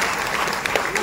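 An audience at a natural-conception conference claps together in a brief, dense burst of applause, loud and close, with a voice faintly underneath.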